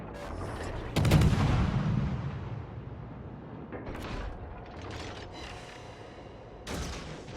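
Heavy naval guns in World of Warships firing on the battleship Warspite: a loud booming salvo near one second, then lower rumbling and a few scattered later reports under a continuous battle din.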